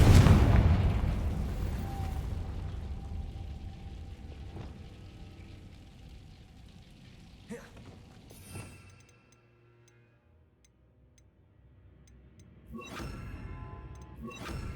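Confringo fire-spell blasts in the Hogwarts Legacy video game: a loud booming burst at the start that decays slowly, followed by a few sharper, quieter impacts and a final pair of bursts near the end.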